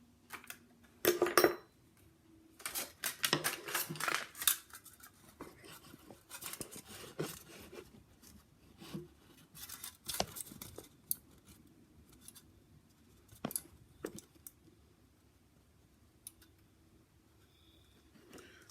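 Soda can metal is cut into a disc for homemade percussion caps, with sharp, scattered snipping and scraping clicks coming in bursts, some loud and close, then thinning out to sparse faint ticks.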